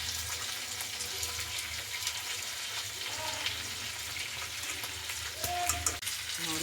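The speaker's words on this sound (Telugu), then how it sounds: "పచ్చిమిర్చి వేసాక ఆయిల్లో వేగుతుంది కదా." Green chilies frying in hot oil for tamarind rice, a close steady sizzle with stirring clinks and a brief watery pop near the end, and no talking.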